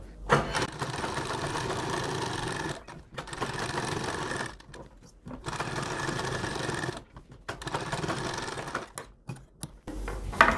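A sewing machine stitches a fabric face mask in several steady, whirring bursts separated by short pauses, close and fairly quiet.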